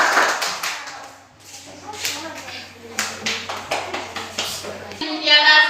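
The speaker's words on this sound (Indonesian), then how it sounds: "Tepuk tangan buat Mutiara." Schoolchildren in a classroom clap for a classmate, a patter of scattered claps with a few sharper taps, mixed with voices talking over and around them.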